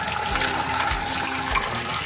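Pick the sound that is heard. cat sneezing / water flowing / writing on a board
water flowing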